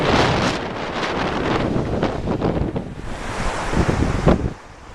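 Sea surf washing ashore at a roadside lay-by near Tongue Bridge on the Scottish Highlands coast, a steady broadband roar of breaking waves mixed with gusty wind buffeting the microphone, continuous and fairly loud.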